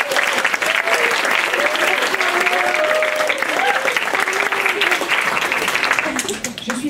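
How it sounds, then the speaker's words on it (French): Sustained applause from a conference audience thanking the summer assistants at a French language school lecture, dense and steady throughout, with voices murmuring and calling out over the clapping. "Merci, vous pouvez les applaudir."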